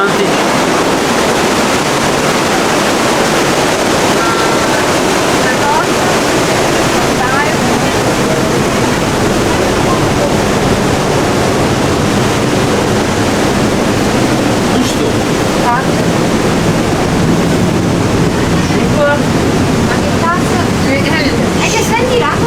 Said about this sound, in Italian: È che senti l'acqua che viene sotto.